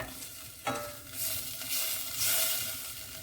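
Around 25 grams of butter melting and sizzling in a saucepan on a cooker as the base for a cheese sauce, a soft crackling fry with a spoon stirring and scraping, growing brighter toward the end.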